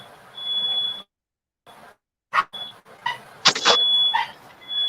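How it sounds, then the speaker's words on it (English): Smoke alarm set off by cooking, a shrill steady electronic beep sounding in repeated bursts with brief gaps and cutouts, alongside clattering kitchen noises nearby. "Oh, y'all, I'm setting off alarms."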